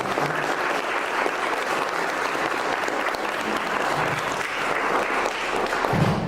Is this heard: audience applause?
yes